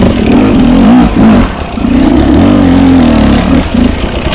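A trials motorcycle engine revs hard in first gear, loud and close, its pitch rising and falling in a few surges with short dips between them.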